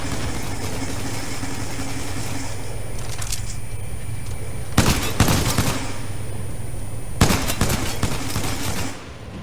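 Pistol fire against robots in Titanfall 2: two short bursts of loud, sharp gunshots cut through a steady engine-like hum, with a quieter popping shot before them.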